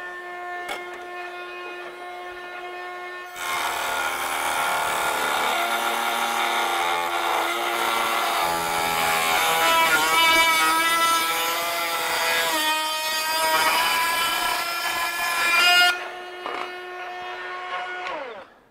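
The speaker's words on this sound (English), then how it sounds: "So I've got a cutting tool in there, and let's see here, we'll cut a little, looks like that's probably aluminum, maybe a small piece of stainless" A Ryobi PBLRT01 18V rotary tool spins up, and its cutting wheel, turning at 25,000 RPM, cuts through aluminum and stainless steel with a loud, sustained whine and grinding rasp for about twelve seconds before winding down.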